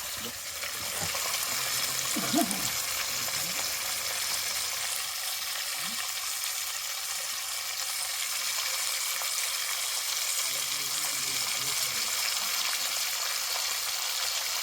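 Fish fries in hot oil with a steady, even sizzle that runs throughout. A few faint knocks and stirring sounds come through underneath, with no talking.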